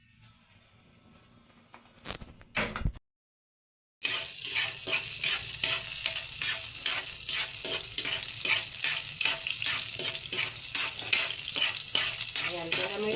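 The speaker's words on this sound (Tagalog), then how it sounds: "Ngayon, igisa na natin." Garlic sizzles hard in a hot pan, a loud steady crackle with rhythmic stirring scrapes, after a few seconds of quieter clatter and a brief silence.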